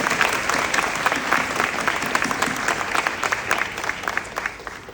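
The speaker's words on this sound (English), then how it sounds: "Please give yourselves a round of applause." Audience applause at a graduation ceremony, a dense, steady patter of many hands clapping throughout, with a faint crowd murmur beneath and no speech.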